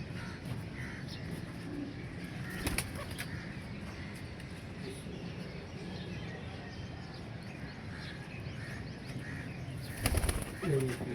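Soft pigeon cooing outdoors with a couple of sudden bursts of wing flapping, one early and one near the end, over faint background noise.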